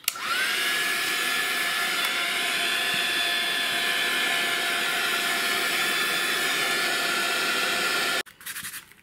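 A hair dryer blows steadily over a thin layer of gesso on a mixed-media board, a loud close whine that holds for about eight seconds before cutting off abruptly.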